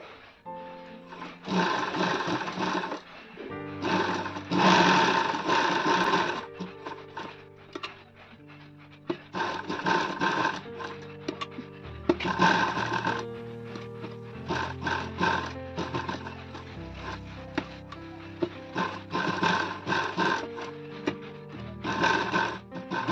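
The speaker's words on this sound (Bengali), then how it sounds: "এই দেখুন এবার আমি সেলাই করছি" A sewing machine stitches a pad into a princess-cut blouse, running in several loud bursts with short pauses between, its steady mechanical whir close and clear.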